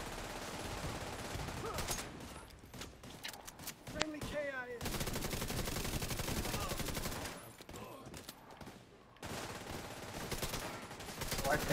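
Bursts of automatic gunfire from an online shooter, rattling volleys and single shots spread across the clip at a moderate distance, with players talking over the action.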